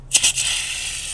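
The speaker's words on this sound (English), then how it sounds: "I will spray down the wheel just so I can knock off any loose grime or debris." A short hiss of spraying water rinsing a car wheel starts with a couple of spattering bursts, then settles into a steady, close spray.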